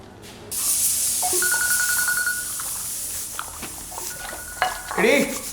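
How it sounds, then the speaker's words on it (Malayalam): A mobile phone rings indoors in a Malayalam film scene: a short series of rapid electronic ring tones, fairly clear, with household clatter and movement around it. "എന്റെ ഫോൺ അടിക്കുന്നു."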